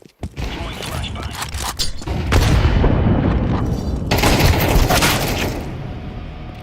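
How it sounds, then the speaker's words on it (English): A flashbang grenade in Counter-Strike 2 is thrown with a short metallic clatter, then goes off in a loud, broadband burst. A sustained roaring wash of game sound follows it. "Throwing flashbang."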